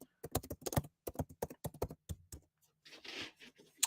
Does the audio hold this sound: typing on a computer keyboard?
yes